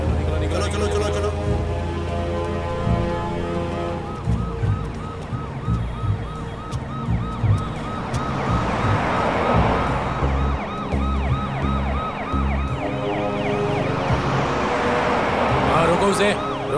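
A wailing ambulance siren cuts through heavy road traffic, rising and falling continuously while engines rumble close by and people talk and shout over it.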